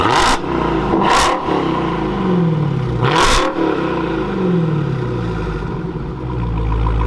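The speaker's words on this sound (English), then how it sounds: "so you guys can hear the Hellcat rip a little bit with the new Borla Attack exhaust" A Dodge Hellcat engine with a Borla Attack exhaust revs hard several times in sharp bursts, then settles into a loud, rumbling idle close by, on a cold day around 32 degrees.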